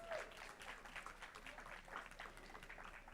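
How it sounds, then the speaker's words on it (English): Soft, steady applause from a board meeting audience patters at a moderate distance for a few seconds. "Let's give the JV team a big round of applause"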